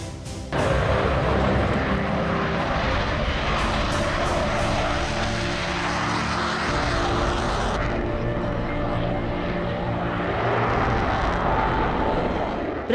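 A Rafale fighter jet flies with a loud, broad, continuous roar that builds quickly and holds steady for more than ten seconds, with no voices over it.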